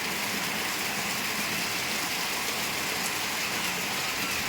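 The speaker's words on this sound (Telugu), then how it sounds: "ఫుల్గా వస్తుంది ఫ్రెండ్స్ వర్షం" Steady, dense downpour of heavy rain, a continuous broadband hiss with no breaks and no voices.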